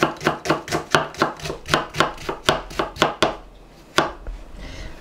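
A knife chops an onion on a cutting board in a fast, even run of about fifteen crisp, close strokes, then slows to a single final cut and goes quiet.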